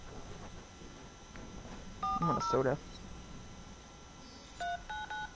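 Keypad tones from an old phone being dialed, a few short beeps in quick succession mid-clip and again near the end, heard clearly over ongoing talk.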